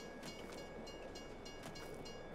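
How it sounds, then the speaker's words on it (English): A train rumbles past in the farming video game Farming Simulator 22, a steady close rolling roar with rhythmic clicking bursts throughout, no speech. "As I nearly get run over by the train."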